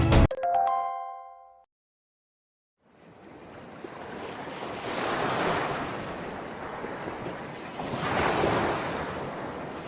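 Ocean waves washing in a children's story, a brief chime opening followed by silence, then a steady rush of surf swelling and receding twice under wind.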